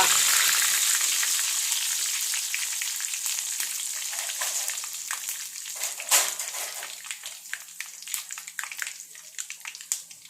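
Curry leaves, chillies and mustard seeds fry in hot oil for an onion pickle, giving a loud, dense sizzle that slowly eases and is broken by sharp pops and crackles, with no voices.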